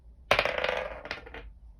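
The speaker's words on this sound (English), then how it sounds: "let's roll this dice" A die is rolled onto a table, giving a sharp initial clack and then a quick rattling tumble of small bounces that fades out within about a second.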